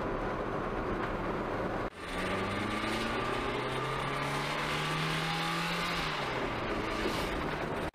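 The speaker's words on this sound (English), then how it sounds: "First freeway drive of the Nissan." A Nissan car cruising at speed on the freeway: a loud, steady engine drone with a rising pitch as it accelerates, road and wind roar throughout, and a short dip around two seconds in.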